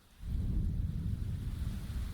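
Heavy rain pouring outside a window on a stormy night, a dense, steady low roar that swells in abruptly and keeps up without a break, fairly soft and even in level.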